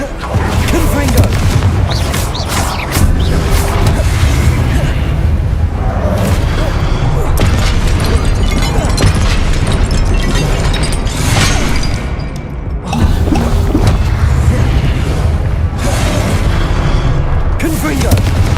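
Repeated Confringo blast spells from Hogwarts Legacy boom one after another through a dense, continuous wall of loud game combat noise, with a voice heard among the effects.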